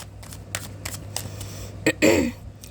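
Tarot cards are riffled and tapped in a short burst of crisp papery flicks, ending in a louder brisk shuffle near the end, heard close and alone.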